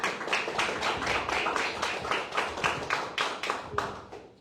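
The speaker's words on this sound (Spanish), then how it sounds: "le brindemos un aplauso y la motivemos" Audience applause at a citizens' forum on justice and civic action, a steady round of hand clapping from a modest crowd, fairly close and even in volume for its whole length.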